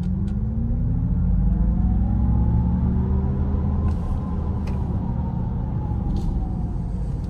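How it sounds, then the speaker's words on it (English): A 2024 Acura ZDX A-Spec electric SUV slowing under regenerative braking gives a steady low road rumble and tire noise, with a synthetic whine that rises and then falls, heard close from inside the cabin without talk. "Regenerative braking is kicking in there."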